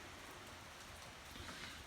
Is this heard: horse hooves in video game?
no